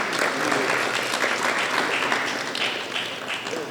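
A room full of people at a Sunday feast applauds, dense, even clapping that holds steady throughout and tapers slightly at the close.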